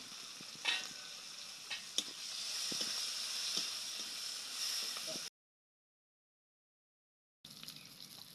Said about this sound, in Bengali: পেঁয়াজ আমি এইভাবে ভেজে নিচ্ছি, বেশি ভাজি নেই।